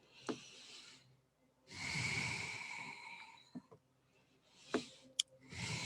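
A person exhales audibly while moving into child's pose in a yoga session, with a long, breathy rush of air in the middle and a few shorter breaths and soft movement noises around it, close and fairly quiet.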